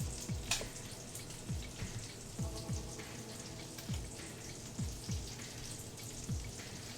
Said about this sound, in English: We got bacon on the range.